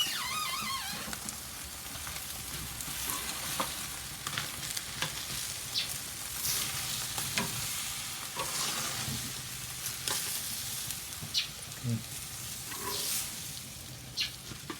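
Cheesesteak meat sizzles steadily on an outdoor grill, with a continuous close frying hiss and occasional sharper crackles and pops.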